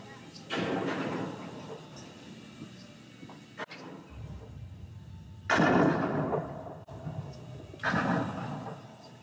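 Shooting gallery rifle at Disneyland's Frontierland firing at targets, a few separate loud bangs spaced several seconds apart, each trailing off over quiet background chatter.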